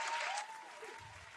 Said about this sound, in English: you can't do the applause after his name